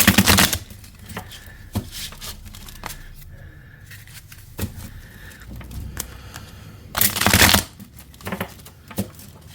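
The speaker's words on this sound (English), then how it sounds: "So let's give it a good shuffle and see what we get." Tarot cards are shuffled by hand in a few brisk riffling bursts with softer handling sounds in between, close and fairly loud, with no talking.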